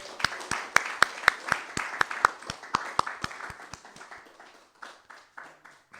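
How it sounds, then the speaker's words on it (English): A small group claps together in a brisk, regular rhythm. The sharp claps are loud at first, then thin out and fade over several seconds. "So we applaud each other."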